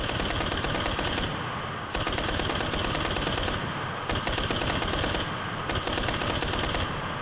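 A machine gun in the video game Enlisted fires in long sustained bursts, loud and close, with rapid evenly spaced shots broken by three brief pauses between strings of fire.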